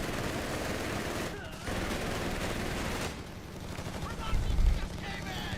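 Dense, continuous gunfire from machine guns and rifles in a Company of Heroes 3 woodland battle, steady and loud throughout with a heavier burst near the end, while a voice talks over it.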